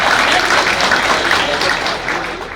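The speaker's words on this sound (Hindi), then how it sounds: "जोरदार तालियों से आप लोग अभिनंदन करें" Loud clapping from guests at a Buddhist-tradition wedding greeting the groom and bride, a dense burst of applause that gradually thins out over a few seconds.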